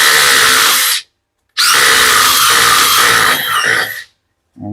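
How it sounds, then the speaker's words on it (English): An impact driver spinning a pipe-cleaning brush against a pipe during a cloakroom refurbishment, two loud close bursts of high whirring with a brief pause between, followed by the start of a third. "Obviously not ideal to use on an impact, but I couldn't get my drill in there, so you use what you got to use."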